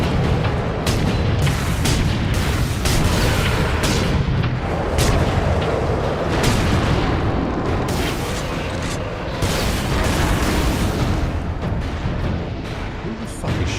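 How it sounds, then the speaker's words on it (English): Mortar shots in the video game Warhammer 40,000: Space Marine, a steady barrage of heavy booms and thuds with irregular sharp impacts over continuous loud battle noise, close and unbroken. "Like them mortar shots, don't you?"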